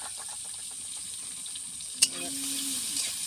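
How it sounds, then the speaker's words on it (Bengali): Onions and green chillies frying in mustard oil in a kadai, a soft steady sizzle running throughout with a short clatter partway and a faint tonal hum after it. "এবার পেঁয়াজ আর কাঁচা লঙ্কা দিয়ে দিব"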